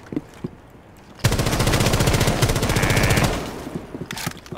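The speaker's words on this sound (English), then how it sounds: "Shotgun." Gunfire in the game Rainbow Six Siege, a loud burst of rapid repeated shots lasting about two seconds after a quiet start, then fading into quieter background sounds.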